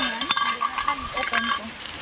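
An egg frying in a pan outdoors on a mountain hike, with sizzling and stirring scrapes under a steady hiss, while people talk nearby.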